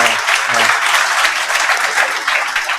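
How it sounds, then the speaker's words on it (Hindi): Audience applause greets a student who has earned 12th rank at a coaching-centre felicitation event, steady dense clapping from a crowd filling the whole clip at full loudness. "इनके लिए तालियां बजाएं।"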